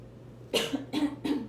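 Three harsh coughs in a row, close and fairly loud, each a short broadband burst separated by brief pauses.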